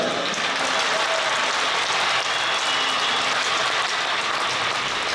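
Crowd applause fills the whole stretch, a dense steady clatter of many hands clapping, fairly loud and continuous.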